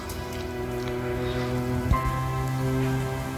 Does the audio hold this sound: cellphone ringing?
no